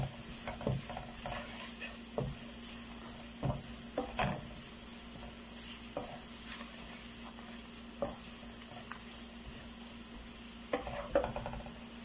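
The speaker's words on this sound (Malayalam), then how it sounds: "ഇതെല്ലാം കൂടെ നമ്മൾ ഈ ഇതിനകത്ത് കിടന്ന് ഈ എണ്ണയ്ക്ക് അത് നന്നായിട്ട് മൂക്കുകയാണ്" Spices and chili powder fry in hot oil for a dates pickle, giving a steady sizzle broken by repeated close scrapes and taps of a stirring spoon against the pan, with no voices.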